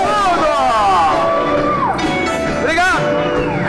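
A talk-show audience cheers and whoops for a clown guest, loud shouts and rising cries from the crowd over steady background noise, with voices calling out throughout.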